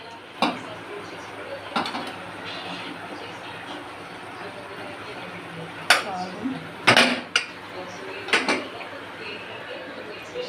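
Plates and utensils clink and clatter while a lunch plate of rice and crab curry is served, with several sharp ceramic knocks spaced apart over a steady low room hum.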